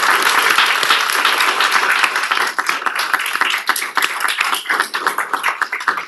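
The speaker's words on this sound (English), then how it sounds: "can we just give all of our amazing applicants a round of applause?" A city council meeting audience gives a round of applause for council applicants, dense clapping that is loud at first and then thins into scattered individual claps toward the end.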